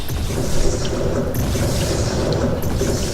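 Resonating Bolts exploding in the video game Firefall, a dense continuous rumble of blasts with low booming texture and occasional sharper pops, loud and close, no voices.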